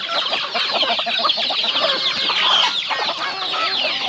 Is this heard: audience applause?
no